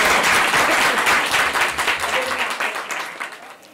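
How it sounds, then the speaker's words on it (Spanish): A crowd claps and applauds loudly for a few seconds, the applause slowly fading. "Un gran aplauso."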